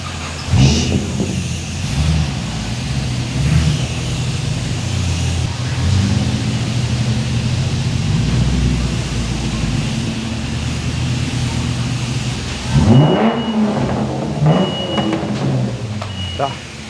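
A Holden VS car passes nearby, its engine rising into a rev and sweeping away, while a person talks over the steady background noise of a car wash.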